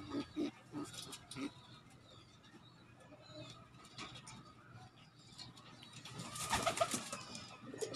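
Racing pigeons in a loft coo softly in short bursts, with a louder flurry of bird calls and rustling near the end; faint voices murmur in the background.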